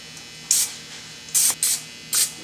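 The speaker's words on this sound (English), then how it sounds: "I don't know if I should spray it with butter, but I'm gonna just do it anyways" Butter cooking spray shot into a cake pan in four short hissing bursts, close and fairly crisp, with brief quiet gaps between them.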